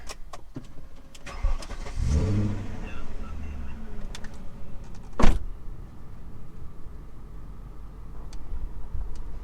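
A BMW E39 car engine cranks briefly and starts, then runs quietly at idle inside the car, with a sharp click and a few faint ticks afterward.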